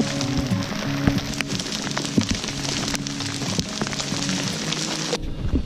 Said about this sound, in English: So the hail mostly let up